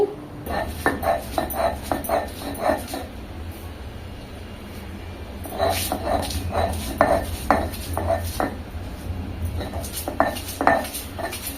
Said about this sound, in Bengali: এইগুলো এখন আমি পাটায় পিষে নেব